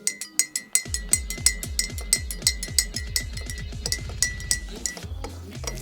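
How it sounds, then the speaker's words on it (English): A metal bar spoon repeatedly clinks against a glass while mashing a sugar cube for a hot toddy, a rapid series of bright close taps that speeds up toward the end. "We're gonna get our bar spoon and mush that sugar cube up. And then we're gonna stir it in."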